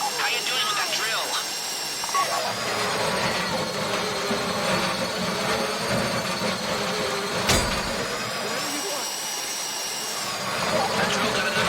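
Safe drill boring steadily into a vault box during a Fleeca bank heist in GTA Online, a continuous mechanical whine with a sharp jolt partway through, under tense chatter from players.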